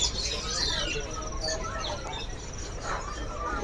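Small caged songbirds in a bird shop, several quick chirps and twittering calls, moderately close, over a low background hum.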